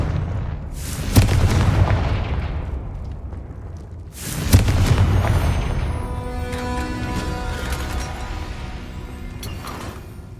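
Two Confringo spell explosions from the Hogwarts Legacy video game burst a few seconds apart, each a sharp, loud blast followed by a deep rumbling tail, the second leaving lingering ringing tones.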